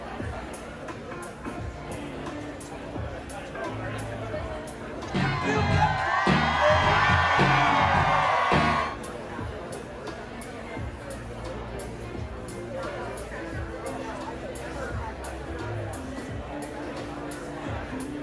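Thousands of Trump supporters at a rally in the Bronx cheer and whoop in a loud surge lasting several seconds, set within a steady hubbub of crowd noise.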